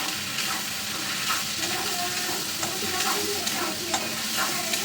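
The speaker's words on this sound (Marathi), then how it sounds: "आधी मसाला हा आपण मस्त परतून घेऊया" Spice masala for dum aloo sautéing in a pan, a continuous sizzle and fry with repeated scraping stirs of a spoon through it, close and fairly loud, no voices.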